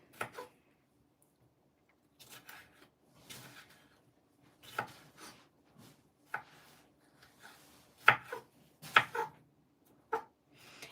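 Knife chopping tomatoes on a cutting board for pico de gallo, heard as irregular clusters of sharp, close taps with short pauses between bursts and no talking.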